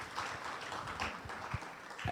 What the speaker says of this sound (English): we should get a huge round of applause for that kind of accomplishment in India